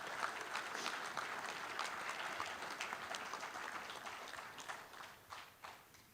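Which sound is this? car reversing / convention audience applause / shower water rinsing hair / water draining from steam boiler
convention audience applause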